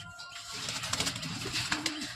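A pigeon coos in low, throaty rolling calls at close range, with a male and a female bird kept together, over a steady noisy background.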